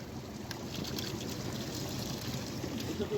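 Water trickling toward the mountain lake of Gosaikunda along a high trekking trail at about 4,380 m: a faint, steady, hissing flow without breaks.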